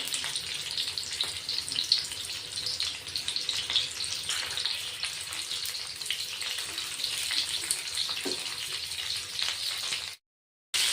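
Chillies frying in a pan of oil, giving a steady close hiss and crackle of sizzling for about ten seconds before cutting out, with no talk.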